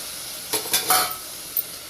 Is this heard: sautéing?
yes